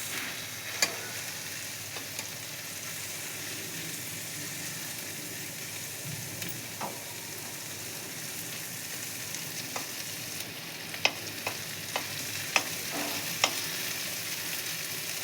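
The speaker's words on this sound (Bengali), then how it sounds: "দেখুন কত সুন্দর করে মশলাটা ভাজা ভাজা হয়ে গেছে, মশলা থেকে তেলও ছেড়ে দিয়েছে।" Ground spice paste for doi katla fries in oil in a pan with a steady close sizzle throughout, broken by occasional light clicks and taps of a stirring spoon.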